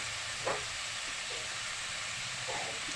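Onions and tomatoes sautéing with curry leaves in a pan for a fish curry, a steady close sizzle and hiss with a couple of brief stirring scrapes.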